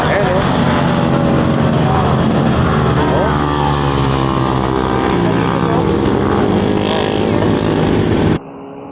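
Loud, continuous engine drone of a group of scooters passing close by, with shifting whine and rumble, cutting off abruptly near the end.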